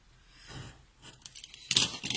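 Paper card being cut with a craft knife for a pop-up card, a few short scraping strokes and light clicks close up, growing louder toward the end.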